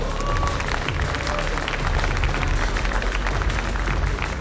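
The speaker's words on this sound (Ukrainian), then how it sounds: "Ваші оплески Вадиму!" Crowd applauding and cheering for a fighter at a bare-knuckle fight night, a dense steady roar of clapping sustained throughout with some low rumble.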